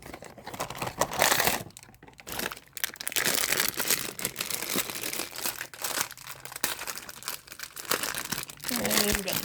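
Plastic packaging and cardboard pulled and torn off a comic-related toy, close crinkling, rustling and ripping in uneven bursts, with a voice speaking now and then.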